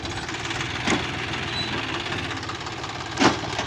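Steady low diesel engine chugging of a tractor idling nearby, with two brief louder knocks or clanks standing out over the drone.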